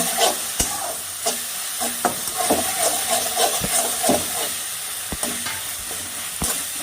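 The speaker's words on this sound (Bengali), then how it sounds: "এবার দুধটাকে মশলাটার মধ্যে ভালো করে মিশিয়ে নেব।" A spoon stirs milk into a sizzling spice masala in a pan for a katla fish head moong dal, giving soft hissing frying noise with scattered sharp clicks and scrapes against the pan, close by and without speech.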